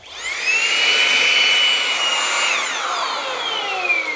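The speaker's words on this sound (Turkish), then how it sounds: "ya süpürge çok güçlü" A Xiaomi Handheld 1C cordless stick vacuum cleaner motor whines loudly and steadily at a high pitch, then its tone drops and winds down.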